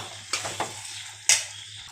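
Chili-coated mango pieces for a spicy cut-mango pickle are stirred in a pan, giving a few scraping, clattering strokes and a sharp louder scrape near the end over a faint low hum.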